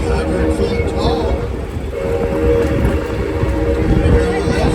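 Six Flags Over Texas Railroad train rolls along with a loud, steady rumble and clatter of cars on track, with a faint whistle tone and a voice speaking over it.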